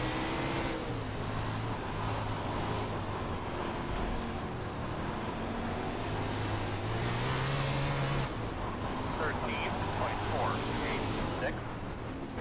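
Engines of 410 sprint cars racing at Cedar Lake in the iRacing video game drone steadily and loudly, with a rising pitch sweep as cars accelerate, while a driver talks over the roar.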